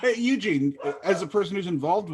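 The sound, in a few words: dog barking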